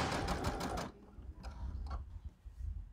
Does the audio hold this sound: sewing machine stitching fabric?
yes